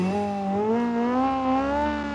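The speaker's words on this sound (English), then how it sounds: "you can hear that in the engine sound" A loud, raspy engine drones steadily with a slowly rising pitch, a continuous synthetic-sounding rally car engine with a race intake manifold in the video game BeamNG, no voices.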